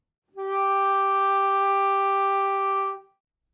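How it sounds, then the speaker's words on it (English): A flute sustains a single steady G natural in the first octave for nearly three seconds, clear and alone, with a smooth onset and gentle fade. "To finger a G natural in the first octave,"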